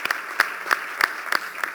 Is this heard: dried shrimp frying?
no